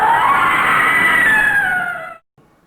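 A girl screaming in an animated horror story about a possessed doll, one long, loud, high shriek that bends slightly downward over about two seconds and then cuts off abruptly.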